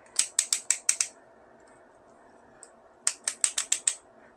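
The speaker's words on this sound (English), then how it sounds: "listen to those ratchets" Ratchet joints on a Transmetal Optimus Primal gorilla figure click sharply, a quick run of six crisp clicks, a pause with one faint tick, then another run of six, close and clear with no talk.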